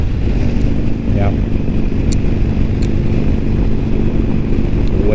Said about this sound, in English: This bike is for beginners that want an American cruiser, something that rumbles